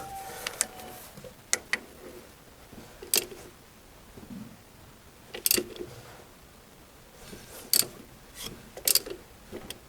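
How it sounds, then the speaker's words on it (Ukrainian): Ratchet wrench with a 27 mm socket slowly turning the crankshaft of a DTZ 5244NRH tractor during service, giving sparse bursts of sharp metallic clicks spread across the stretch, fairly close, with no talk. "Отака така трещотка, ключ на 27."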